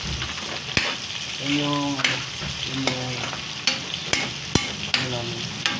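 Onion and garlic frying in hot oil while being stirred, with a continuous sizzle and repeated scraping strokes of a utensil, close and fairly loud, with brief speech over it.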